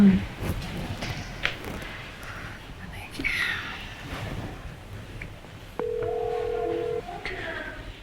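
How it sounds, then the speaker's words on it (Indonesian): A phone call being placed, a soft rustle and faint voices giving way to a steady ringback-style tone lasting about a second, then quiet background. "mau coba telepon Randy dulu sebentar"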